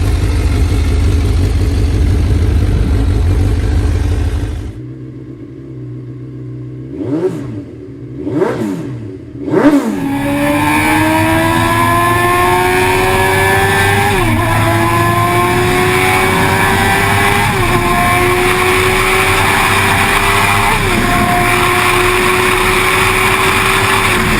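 Suzuki GSX-R superbike engine, the last raw model before tighter power and emissions rules, idles loudly, then blips through three sharp revs and pulls hard up through several gears with a rising, loud wail.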